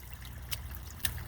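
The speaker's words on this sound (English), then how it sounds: "While we water the tree." A tree being watered in a summer garden on Vancouver Island, a soft steady trickle of water with a couple of brief splashy bursts, close and fairly quiet, no talking.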